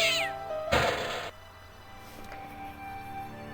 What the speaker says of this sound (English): You see a cat come out.